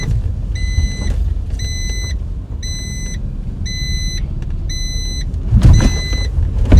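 A car's engine runs steadily inside the cabin during a first driving lesson, with a series of five regular electronic warning beeps over the hum and a louder rumble near the end.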